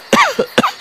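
Two harsh, close coughs from a man during a paranormal investigation in a forest, each a sharp burst followed by a short rasping tail, loud and alone.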